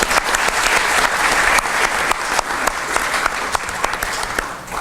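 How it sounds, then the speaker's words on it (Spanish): Audience applause after a speaker's introduction at a mining, education and culture evening talk, a dense steady wash of many hands clapping with scattered sharper claps, sustained for the whole stretch. "Un fuerte aplauso para él"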